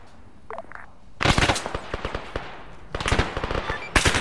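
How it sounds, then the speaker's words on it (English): Rapid gunfire in a squad firefight, loud crackling bursts of shots in two long volleys separated by a short pause, with a final burst at the end. "They're shooting at us."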